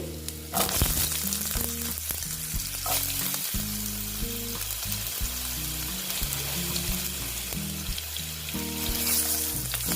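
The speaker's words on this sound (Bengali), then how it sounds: "বন্ধুরা তেলটা গরম হয়ে গেছে এখন আমি কালো জিরে দিয়ে দিচ্ছি তারপরে দিয়ে দিচ্ছি দেখো আলু" Potatoes and nigella seeds fry in hot oil with a loud, steady sizzle and crackle that runs throughout, broken by occasional stirring clatter and a faint watery hiss.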